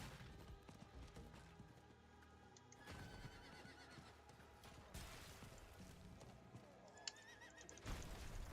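A horse in the video game Diablo 4 clip-clops along at a steady trot, with a whinny rising over the hoofbeats; game effects and a voice sit beneath, all fairly faint.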